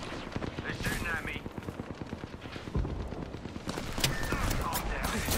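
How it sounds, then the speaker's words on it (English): Rapid bursts of automatic gunfire in the Apex Legends video game, loud and rattling in quick repeated volleys, with brief pauses and a voice talking in between. "They're shooting at me."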